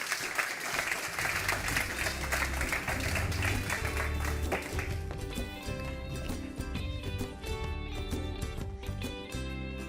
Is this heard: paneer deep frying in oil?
no